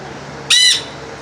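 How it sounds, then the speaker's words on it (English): A Nanday conure at a reptile and animal park gives one loud, harsh, nasal squawk lasting about a third of a second, close and prominent over faint background noise. "We've got Nande Conure."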